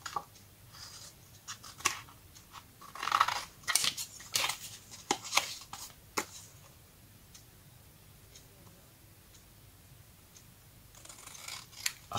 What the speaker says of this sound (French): je découpe.